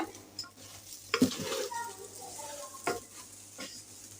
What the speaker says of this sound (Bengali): চালটা ভাজা ভাজা না হওয়া পর্যন্ত লাগতে থাকবো